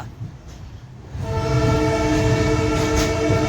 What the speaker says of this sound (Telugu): ఆ హార్న్.